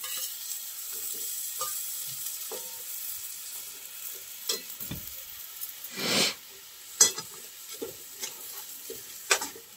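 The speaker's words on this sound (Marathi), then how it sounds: "आणि वांगी देखील छान प्रकारे परतून घेऊया." Brinjals in masala sauté over medium heat, a soft crackling sizzle beneath repeated spoon scrapes and stirs, with a few sharper clinks and a brief rush of hiss midway.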